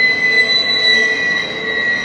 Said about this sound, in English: So this is Morant's Curve with the CP train barreling through.